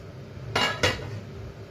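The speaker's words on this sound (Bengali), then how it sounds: "ঢাকনাটা উঠিয়ে দিই" A metal lid is lifted off a pot of steamed bhapa pitha wrapped in banana leaves, giving two quick clanks close by with short ringing, then quiet.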